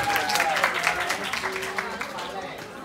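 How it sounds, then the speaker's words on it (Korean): An audience at a school chapel service applauds in welcome, with steady clapping that gradually fades while a voice speaks over it. "우리 서로에게 환영의 박수 할까요?"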